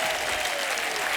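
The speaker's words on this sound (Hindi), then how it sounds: "जोरदार तालियां अन्ना के लिए।" A studio audience at a comedy talk show bursts into dense, loud applause, a steady wash of clapping that fills the whole brief moment without pause.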